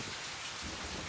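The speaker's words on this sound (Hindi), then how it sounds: "इतनी बारिश हो रही है" Heavy rain pours steadily in a dense, unbroken hiss, close and loud throughout with no voices.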